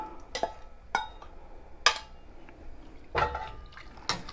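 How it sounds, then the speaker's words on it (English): Potatoes and sausage drop into a soup pot of stock in several separate splashy thuds and clinks, spaced irregularly over a few seconds, close by and fairly quiet. "you're going to throw your spuds in and add your sausage back in"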